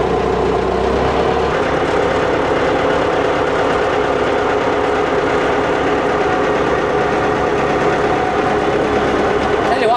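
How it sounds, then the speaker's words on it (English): A Massey 50B tractor engine runs the front loader hydraulics to pump oil, giving a loud, close, steady rumbling drone with no breaks throughout. "I'm going to try to use the front loader now to get this oil pumping."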